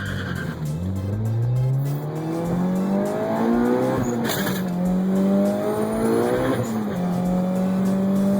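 Tires squeal under hard driving from a turbocharged GSR car, with a loud, steady engine roar whose pitch climbs and drops through several shifts over about eight seconds.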